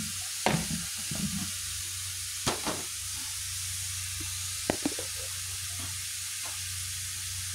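Sliced ampalaya and egg fry in a pan with a steady, close sizzle, broken by occasional sharp scrapes and clicks as the mixture is stirred.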